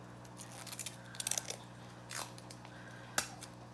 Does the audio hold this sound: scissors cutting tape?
yes